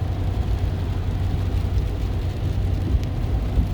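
Inside a 2020 Ford F350 with the 6.7 Powerstroke diesel on the move, a low, even engine and road drone hums continuously with no voices.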